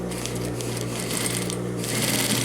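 Sewing machine running steadily as it stitches the lining of a vest pocket for a men's vest, a continuous close mechanical whir with a light rhythmic chatter throughout.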